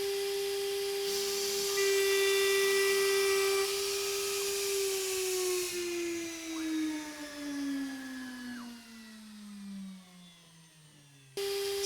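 An Avid CNC Benchtop Pro mills aluminum at 150 inches per minute: a sustained tonal whine with bright, shifting harmonics and chatter, the pitch gliding slowly downward, ending in an abrupt burst of noise.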